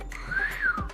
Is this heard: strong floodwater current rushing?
no